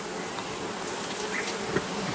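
Bees buzzing around an open beehive being inspected for honey, a dense, steady close-up hum of many insects without any talking.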